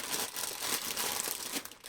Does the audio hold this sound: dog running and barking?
no